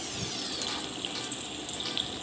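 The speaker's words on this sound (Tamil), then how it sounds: "கடாயில் எண்ணெய் காஞ்சிருத்து இப்போ வடையை போட்டுடலாம்" Banana flower vadas slipped into hot oil in a kadai, setting off a dense, even, rushing sizzle that holds steady and close for the whole stretch, with no talking.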